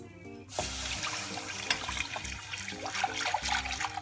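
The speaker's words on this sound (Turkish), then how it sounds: "Evet şimdi 3 su bardağı suyumu ekliyorum." Three glasses of water poured into a pot of baby soup, a close, gurgling splashing stream with shifting pitch as the pot fills, preceded by a brief quiet moment.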